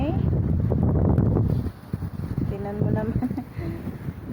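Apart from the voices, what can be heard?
strong wind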